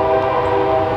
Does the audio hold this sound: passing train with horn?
yes